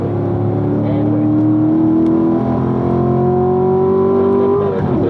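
Race car engine at high revs on a track, a loud, continuous close-up drone with a slowly rising pitch as it accelerates, while someone talks over it.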